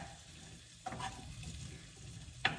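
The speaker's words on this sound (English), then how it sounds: "We're going to saute our peppers and our onions" Peppers and onions sautéing in pans make a steady, close sizzle, with a couple of brief stirring scrapes breaking through the hiss.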